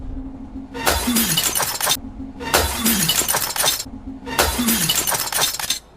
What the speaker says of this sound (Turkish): Fakat istemsizce lambayı patlatıyor ve tüm oyuncuların üstüne cam kırıkları geliyor